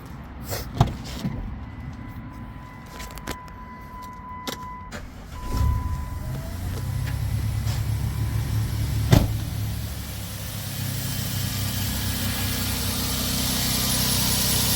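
A few clicks and a chime, then a car engine with a repaired misfire cranks and catches, settling into a steady low idle that continues to the end.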